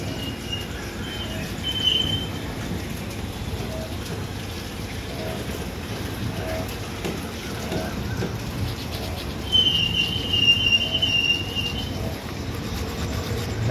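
Train pulling out of Manamadurai Junction on an early morning run toward Mandapam, a steady rumbling rolling noise throughout with a brief higher squeal or whine near the end, no talk.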